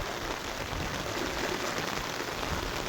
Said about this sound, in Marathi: आणि आताही पण अतिशय जोरदार स्वरूपाचा पाऊस आहे चालू.